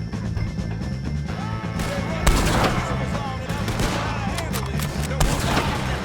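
Gunfire in the Red Dead Redemption 2 game, repeated sharp shots and rattling bursts during a chaotic firefight against O'Driscolls, with shouting voices mixed in.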